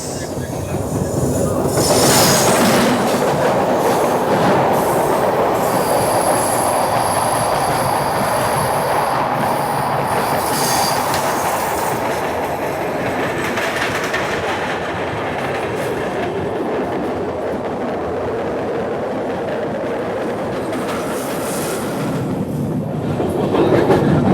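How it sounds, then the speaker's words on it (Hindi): Loud, continuous rumble of the Visakhapatnam–Mumbai LTT express train as it passes the Pushpak Express on a ghat section, with wheel clatter and a squealing rush of the crossing train rising near the start and end. "Crossing Pushpak express."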